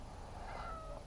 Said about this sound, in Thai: ตกใจแมวป่า